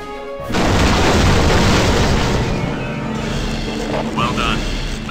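In Marvel Ultimate Alliance, a missile self-destructs with a sudden loud booming explosion, then a long roaring rumble that slowly thins out, with a few sharp pops and a voice near the end.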